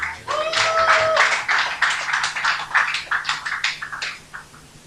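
Applause breaks out for a performer at a live TV show, dense clapping at first that thins and tapers off, with some voices and a sustained tone mixed in.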